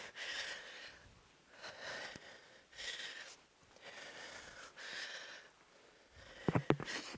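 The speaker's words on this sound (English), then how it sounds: "You can probably hear my breathing on my mic." Heavy, labored breathing after a Tabata workout interval, with slow repeated breaths close to the mic and a brief burst of louder clattering near the end.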